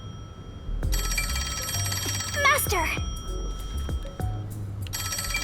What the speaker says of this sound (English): The phone noise is so annoying.